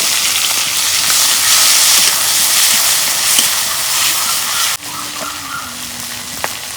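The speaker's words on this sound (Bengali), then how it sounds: "পেঁয়াজ কুচি, কাঁচামরিচ তেলে দিলাম" Chopped onion and green chili sizzle in hot oil with a loud, steady frying hiss that dips abruptly partway through and then carries on with faint crackles, with no speech.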